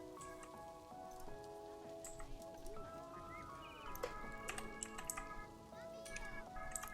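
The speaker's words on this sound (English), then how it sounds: "I gotta wait for the rain to end." Steady rain pattering on a surface, a continuous drizzle of drops running under music with sung vocals and some voices throughout.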